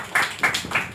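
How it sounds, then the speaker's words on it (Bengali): Audience hands clapping at a cultural quiz event, three quick bursts of applause within a second, close and fairly loud with no voices over them. "জোরে হাততালি হোক না।"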